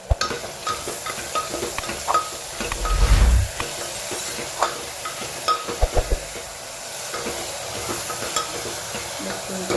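Ingredients are stirred with salt in a sizzling pan for a Gujarati dish. The spoon scrapes and clinks against the metal in a string of irregular strokes over a constant frying hiss, with a louder rough scrape partway through.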